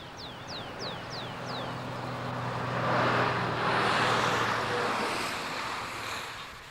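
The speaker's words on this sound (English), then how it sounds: "The peace and serenity of this French sunflower field is to be broken this weekend by the sound of speeding trucks." Speeding trucks rush past a quiet French sunflower field, a broad roaring whoosh that swells to a peak midway and then fades, with a few bird chirps early on and no voices.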